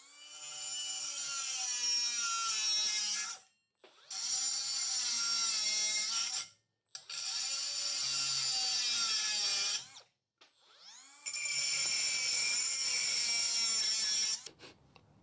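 A Milwaukee power tool fitted with an Avanti Pro abrasive wheel cuts through screws and nails in four long, loud, shrieking passes separated by short pauses, with no talking.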